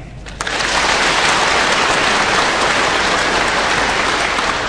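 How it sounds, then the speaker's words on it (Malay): Audience applause for a panelist on a Kedah public talk show, starting with a brief lighter patter then swelling into a full, loud, sustained clapping from many hands that holds steady to the end. "kita berikan tepukan kepada Yang Berhormat Dr."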